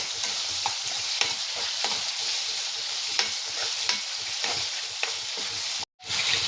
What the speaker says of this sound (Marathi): हे पुन्हा एकत्र छान आपल्याला परतून घ्यायचे.